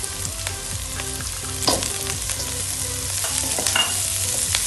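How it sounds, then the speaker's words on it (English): Mixed vegetables, including carrots, stir fry in a pan for a red Thai curry, sizzling steadily up close, with scraping and clinking of a spatula stirring throughout. "Just let it stir fry for 2 minutes."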